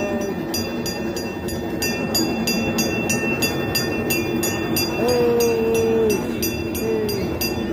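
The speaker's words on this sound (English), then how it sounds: "Train run." A holiday lights ride train at the Bronx Zoo rolls along with a steady rumble and rhythmic clicking, a tonal squeal rising in the middle, while faint voices murmur in the background.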